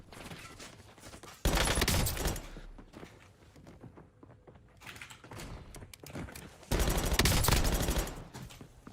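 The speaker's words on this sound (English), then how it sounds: "We got to use a pistol." Pistol shots in Call of Duty crack out in two loud clustered bursts separated by quieter stretches of game noise and faint clicking, with no voice over them.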